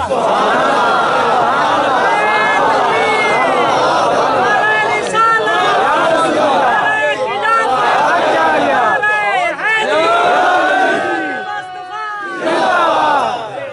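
A large crowd at a Punjabi religious gathering chants slogans, loud massed voices rising in repeated call-and-response waves with shouting and babble, swelling and falling across the whole stretch.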